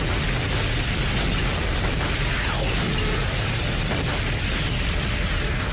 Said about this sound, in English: Now the artillery launches a creeping barrage, designed to provide a moving curtain of steel to protect the advancing infantry